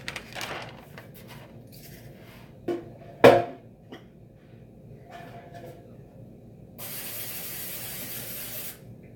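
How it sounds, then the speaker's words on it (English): Cooking spray hissed inside a baking pan: a short spray burst near the start, a few clicks and a clatter, then a longer steady hiss of spray toward the end, close and clear with no talking. "I spray the inside of the pan"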